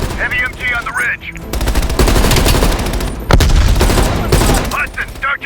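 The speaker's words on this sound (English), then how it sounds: "Heavy MG on the ridge." Heavy machine gun fire on a ridge in Call of Duty Black Ops Cold War, loud rapid bursts hammering in long strings with brief gaps between them, while voices talk over the shooting.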